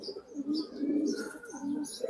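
A tournament pigeon from a fifty-one-kilo race coos steadily and close by, in low rolling phrases with a few faint chirps around it and no talking.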